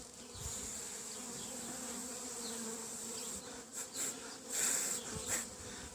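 A dense, steady hum of many honeybees buzzing close by at an open hive during spring apiary maintenance, with a few louder individual bees passing near toward the end.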